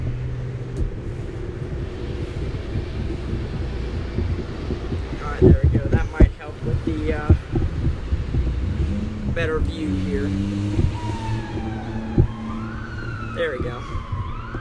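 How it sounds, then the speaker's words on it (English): Emergency vehicle sirens wail in the distance during a severe thunderstorm in Cumberland, Maryland, their rising and falling tones faint under wind buffeting the microphone and someone talking nearby. "Sirens are going."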